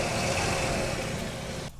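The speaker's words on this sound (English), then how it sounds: "It's also got a manual throttle, which is pretty cool, so you can rev it right from here." A Jeep Liberty engine rising under a hand-operated manual throttle: a steady, loud, close mid-pitched motor drone that holds throughout, then cuts off abruptly at the very end.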